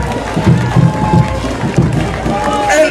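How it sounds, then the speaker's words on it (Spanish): A crowd at a Bolivian folk dance entrance for the Virgin of Santa Rosa claps and cheers loudly, with rhythmic clapping bursts under a general hubbub of voices. "un fuerte aplauso al público"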